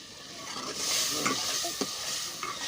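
Potatoes roasting in a pan sizzle softly while a spoon stirs them, with intermittent scraping clinks over a low steady frying hiss.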